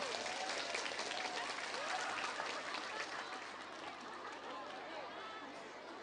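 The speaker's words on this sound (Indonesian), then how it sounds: "Tepuk tangan dulu dong." An audience at an Islamic religious lecture event in Indonesia applauds, a steady dense clapping that stays loud throughout with some crowd chatter mixed in.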